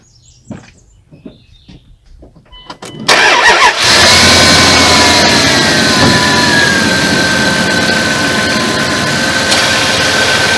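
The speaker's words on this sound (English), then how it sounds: "and then we'll start the engine." A Dodge Durango's engine cranks over and catches after a few seconds of quiet clicks, then settles into a loud, steady idle with a faint whine on top.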